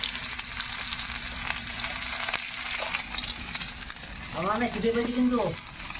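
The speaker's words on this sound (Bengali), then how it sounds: "এই তো তাড়াতাড়ি ভেজে দিচ্ছি" Dried onions and dry red chillies frying in mustard oil in a pan: a steady hiss of sizzling runs throughout, with a voice speaking over it near the end.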